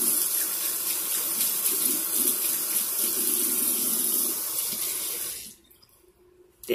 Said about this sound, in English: So I'm just going to clean this with soap and water.